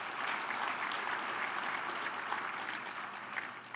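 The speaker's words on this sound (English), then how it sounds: "Let's give them a round of applause." A dinner-event audience applauding event staff, a continuous, fairly even patter of many hands at a moderate distance, without speech.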